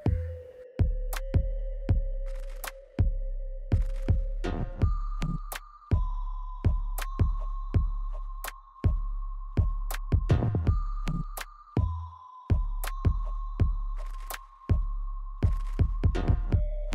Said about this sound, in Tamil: இப்போ அந்த மோட்டார் ரொம்பவே அருமையாக சுற்றுது, எந்த விதமான பிரச்சனையும் இல்லாமல்